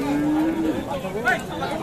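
A bullock at a cattle market in Dinajpur lets out a low, drawn-out moo nearby, followed by a second rising call, over a murmur of market chatter.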